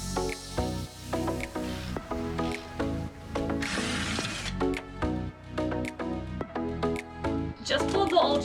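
A hand ratchet clicks in quick, repeated bursts close by while old shocks are removed from a Jeep Wrangler LJ rear axle, with metallic clanks and a short scraping squeal mixed in.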